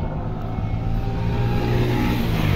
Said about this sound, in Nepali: प्लेन र हेलिकप्टर एकैचोटि उडिरहेको छ